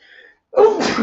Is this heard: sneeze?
yes